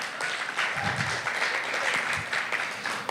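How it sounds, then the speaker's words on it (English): An audience at a talk on treating volunteers gives a sustained round of applause for the volunteers in the room, a moderately loud, even wash of many hands clapping with scattered sharper claps. "Can we give them a round of applause?"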